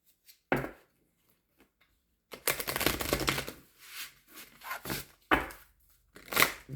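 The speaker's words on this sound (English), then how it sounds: "Give these a quick shuffle." Close, papery riffling bursts of tarot cards being shuffled come in quick irregular flurries, with a brief snap early and then several rapid shuffles in succession, no talking.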